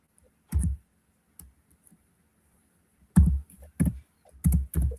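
Sparse bursts of keyboard typing, done one-handed, come in a short cluster, a long pause, then three louder close clusters of keystroke clicks. No one speaks.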